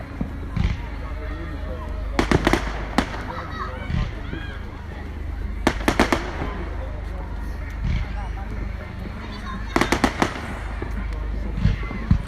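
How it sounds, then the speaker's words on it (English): Fireworks display on Bonfire Night at an outdoor park, with loud sharp bangs arriving in three clustered bursts over a steady crowd murmur, with children and people talking throughout. "And the big bangs are back in force."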